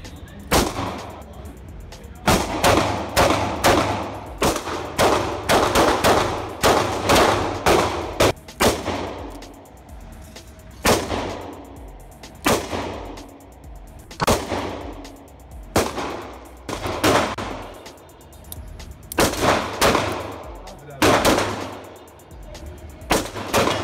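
Shots from a Smith & Wesson M360J scandium J-frame revolver, a series of loud sharp reports with ringing decay, fired in clusters at irregular intervals across the span.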